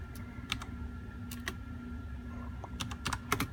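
Keys tapped on a computer keyboard while entering a search for a Honda Insight IMA bypass, sparse uneven clicks in small bursts, close and fairly quiet, with no talking.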